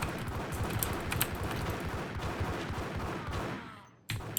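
Dense burst of gunfire from the Max Payne video game, a steady fusillade of shots lasting several seconds before dropping out briefly and resuming, loud and close, with no talk.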